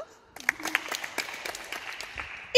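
Clapping for a gymnast at an artistic gymnastics training session, a brief burst of a few hands starting partway through and continuing steadily, with voices in the background.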